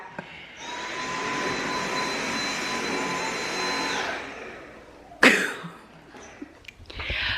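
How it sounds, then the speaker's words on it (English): A household vacuum cleaner runs steadily with a loud, even whine and motor hum for several seconds, then shuts off, followed by a nearby cough and some handling noise. "I heard this vacuum"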